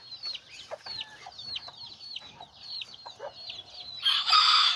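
Chickens cluck and a tiny white rooster crows among newly hatched chicks, with busy overlapping peeps and chirps throughout and a louder, harsher burst of calls near the end.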